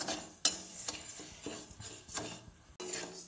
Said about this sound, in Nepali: चामल भुट्ने, यसलाई रातो हुनेसम्म भुट्नुपर्छ